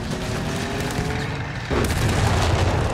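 Bundle grenades explode in Company of Heroes 3, a deep, loud boom hitting partway through and leaving a dense rumble of blast and battle noise over steady background combat.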